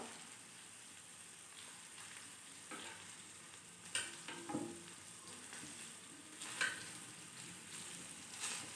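Paneer pieces roast and sizzle softly in a pan after being flipped, a faint steady crackle with a few light clicks and scrapes from handling, quiet and close.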